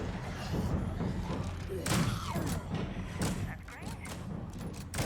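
A gun in State of Decay 2 firing in quick bursts of sharp thuds and bangs, close and loud, with someone talking over the shots.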